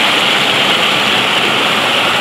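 Floodwater pouring fast over a drop like a waterfall in a flooded village, a steady loud broadband roar that holds unbroken throughout.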